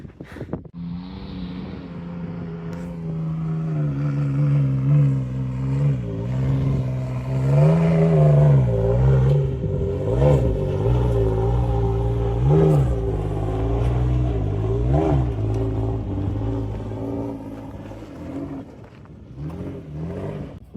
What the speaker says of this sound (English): That was a two-wheel drive, no locker taco going up Diablo drop-off.